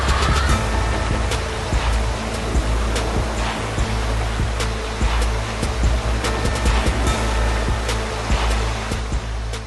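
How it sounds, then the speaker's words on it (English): A Renault Duster SUV in all-wheel drive fords a river with a current, rushing water and engine rumble blending into a loud, continuous wash with splashing bursts throughout. "the Duster too makes the river crossing look easy"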